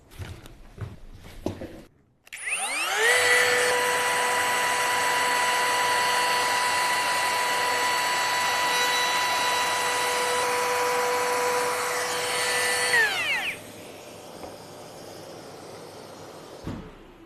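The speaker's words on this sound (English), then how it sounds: "we're all set up with a 6mm roundover bit and the dust extraction for edge routing" A cordless Bosch GKF 18V-8 trim router with a 6mm roundover bit and dust extraction spins up with a rising whine, cuts along a wooden edge in a loud steady drone for about ten seconds, then winds down.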